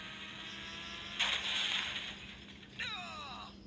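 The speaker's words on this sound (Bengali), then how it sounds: "এবার এই সাদা গাড়িটাকে ব্লাস্ট করে দেবো।" A white car is blown up in a video game, sounding as a sudden burst of crackling, shattering noise that decays, followed by a second sharp hit with sweeping debris tones, all over a low steady game hum.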